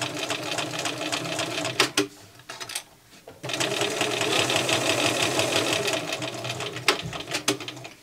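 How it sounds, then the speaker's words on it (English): A sewing machine stitches a zip into a bag in close, loud, steady mechanical bursts. It pauses briefly around the second and third seconds, then runs again, with faint clicks between the runs. "I'm kind of pushing this presser foot right up against the teeth"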